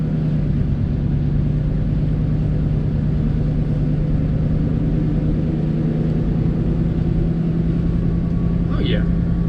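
A 1979 Dodge D100 step-side pickup, a barn find, drives down the road after years of sitting, its engine a steady, unbroken drone throughout while people talk over it.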